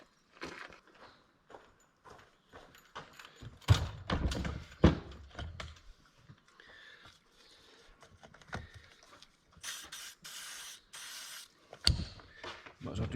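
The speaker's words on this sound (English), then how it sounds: "I just need to take that in the workshop and give that a squirt too" Short hissing bursts of lubricant spray aimed at a seized button in a farm workshop, several quick squirts in close succession among clunks, footsteps and handling noises.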